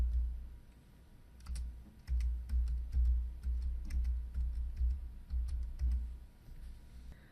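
Numbers entered on a computer keyboard, a run of crisp key clicks at moderate pace, close and fairly quiet, with a low background hum and no speech.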